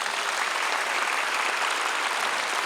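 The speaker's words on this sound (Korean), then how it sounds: "다시 한번 순국선열 유족들에게 감사의 박수를 보내야 합니다" A large crowd at a prayer gathering in a war memorial hall gives sustained, dense applause, an even wash of clapping with no pauses.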